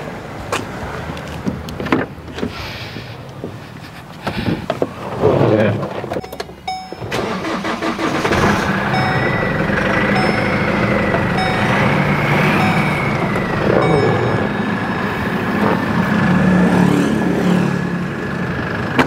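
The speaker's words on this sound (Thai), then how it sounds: "คันนี้ฮะเป็นเชฟโรเล็กฮะเวลาสตาร์ทนะฮะเวลาสตาร์ทก็จะต้องมีการเหยียบคลัชนิดนึงฮะ" A 2012 Chevrolet Colorado pickup, started with the clutch pressed, cranks after some clicks and handling noises, catches and settles into a steady, close, loud idle, with a voice heard at times.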